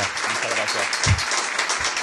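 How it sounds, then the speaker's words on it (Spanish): Audience applause for Millo Torres, a guest on a Spanish-language show, with a steady broadband clatter of clapping and some low voice-like sounds and laughter mixed in beneath it. "así que un aplauso para Millo"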